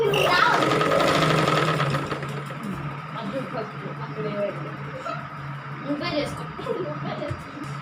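A sewing machine stitches around scrap cloth in a steady, continuous whir with a low motor hum, close by and running under someone speaking throughout.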